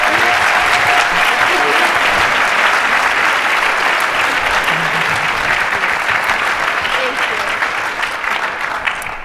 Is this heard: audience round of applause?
yes